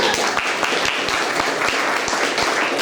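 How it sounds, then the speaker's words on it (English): Applause from an audience at a community meeting on the New York Equal Rights Amendment, a short burst of dense, fairly loud clapping from a room of people, with no talk over it. "Stand up so we can applaud."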